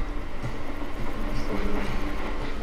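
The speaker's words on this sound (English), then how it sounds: "Absolutely worth it for that cute little train." A small train rolls past on rails in rural Japan, a steady close rumble with rhythmic clickety-clack of wheels over track joints, holding level loudness throughout.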